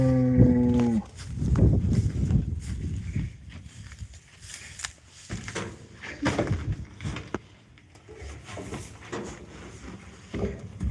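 Dexter cattle moo on a homestead, one long close low call opening the clip, followed by shuffling, thumps and fainter lowing from the herd nearby.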